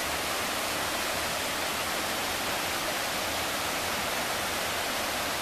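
Mill Prong Creek in Shenandoah National Park rushing and crashing down its rocky bed just below a cabin, a steady, dense, broadband water roar that holds evenly throughout with no voices.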